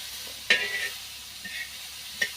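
Salted onions frying in a pan for a wild-greens vegetable dish, soft background sizzle punctuated by a couple of sharp spatula taps and scrapes.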